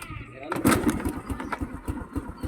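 A motorcycle engine starts and then runs with a rough, uneven rumble, close by and fairly loud, while someone talks over it outdoors before a fishing trip.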